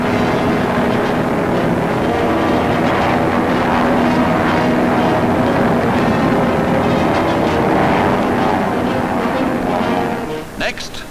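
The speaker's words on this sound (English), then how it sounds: "The C-46 plane enables the men to drop from both sides, 18 at a time, speeding up the operation." A C-46 transport plane in flight during a wartime parachute drop gives a loud, steady roar of engines and rushing wind, with a voice talking over it.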